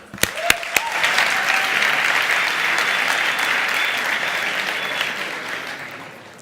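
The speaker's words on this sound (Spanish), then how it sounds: "Un aplauso." Conference audience at a JavaScript developer event applauds a speaker taking the stage, starting with a few sharp isolated claps, then swelling into steady, even applause that holds across the room before tapering off.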